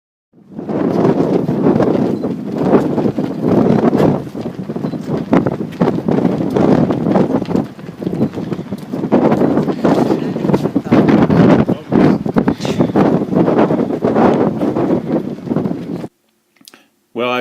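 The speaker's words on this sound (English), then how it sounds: "it's a very windy day out here" Strong wind at the Great Salt Lake in Utah buffets the microphone in heavy, roaring gusts that barely let up, then cut off abruptly near the end.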